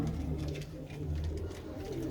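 Pigeons kept in a loft, cooing softly and continuously in low murmuring tones, close and without talk.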